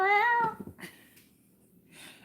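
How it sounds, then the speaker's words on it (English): A house cat gives one loud, drawn-out meow near the start, followed by soft shuffling and faint breathy noises in an otherwise quiet room. "when the dogs hear the cat meow"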